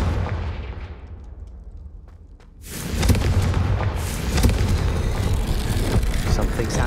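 A Confringo fire spell from Hogwarts Legacy goes off with a loud, sudden blast that swells into sustained roaring, crackling explosion noise up close after a quieter lead-in.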